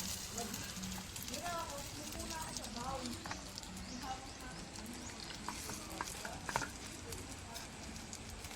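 Fried rice with garlic and salt cooks in a pan at a moto camp, a steady close sizzle with scraping stirs running throughout, while people talk over it.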